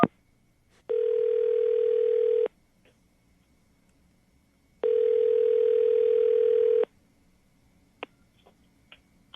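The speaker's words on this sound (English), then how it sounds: "We'll call him right now." An outgoing phone line rings twice, each long electronic tone buzzing for about two seconds with a pause between, followed by faint clicks.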